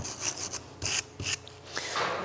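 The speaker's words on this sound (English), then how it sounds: "Now you want to take your wire brush here. You want to clean where the slides sit, because there can be some rust build up there." A wire brush scrubs rust from the caliper slide seats on a 2006-10 Honda Civic's rear brakes, with short, close rasping strokes in an uneven rhythm.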